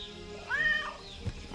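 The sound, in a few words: cat meowing in Keep Up Survival video game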